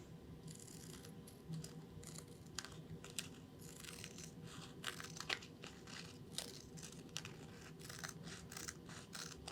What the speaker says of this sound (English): Take our scissors and we'll just go ahead and cut that out.